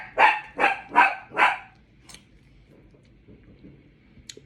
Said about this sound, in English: my dog, Zoe.